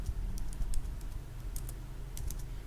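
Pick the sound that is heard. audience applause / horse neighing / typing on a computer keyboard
typing on a computer keyboard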